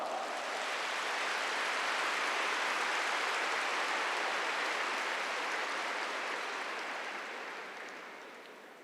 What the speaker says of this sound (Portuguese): Dá um beijo nessa palavra e aplauda essa palavra